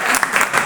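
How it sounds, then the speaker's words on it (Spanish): Brief burst of audience applause for Marta after a talk, dense and steady clapping lasting under a second. "Vamos a darle un aplauso a Marta"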